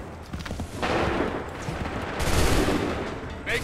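Musket volleys in Assassin's Creed III, a dense, sustained crackle of gunfire across the whole stretch, swelling louder midway and again near the end, with no clear separate shots.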